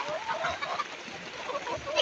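Local farm chickens cluck and call continuously at close range, the calls overlapping into a busy, steady chatter.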